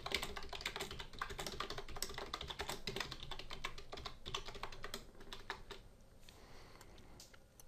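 Steady, rapid clicking of a computer keyboard as text is typed, close and continuous, easing off slightly near the end.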